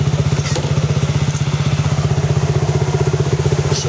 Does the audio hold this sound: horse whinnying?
no